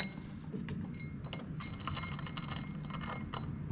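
The air-conditioning compressor on a Claas Jaguar harvester rattles faintly, with scattered light metallic clinks and ticks over a low, steady background hum.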